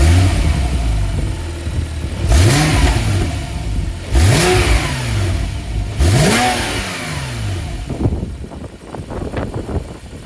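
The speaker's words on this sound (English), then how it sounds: "a 997 Generation 2 with a standard exhaust system from the factory, which sounds like this." A Porsche 997 Generation 2 with its standard factory exhaust revs three times, each sharp rise and fall spaced about two seconds apart over a steady idle, loud and close, followed by a rough settling burble.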